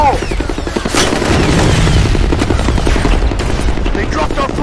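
A grenade detonates during a capture-the-flag match in the shooter game FEAR Combat, with a loud, dense blast amid sustained gunfire and rumbling battle noise that fills the whole stretch.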